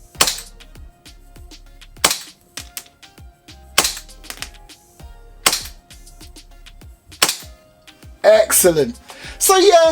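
WE P38K airsoft pistol shots, a series of five or six sharp, close cracks spaced about every one to two seconds, followed by a clatter of handling noise, with someone speaking briefly between shots.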